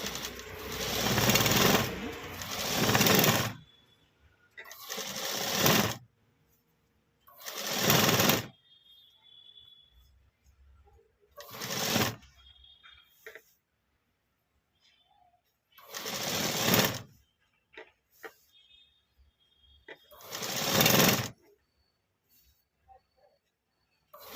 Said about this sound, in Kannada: ಇಲ್ಲಿ ಒಂದು ಸ್ಟಿಚ್ ಹಾಕೊಂಡ್ಬಿಡ್ತೀನಿ.